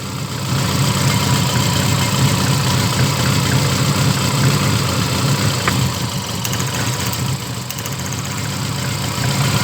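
A VAZ 21099 engine idles roughly with a cylinder misfire, running on three cylinders. It makes a loud, steady, close rumble with an uneven, shaky pulse throughout and no voices.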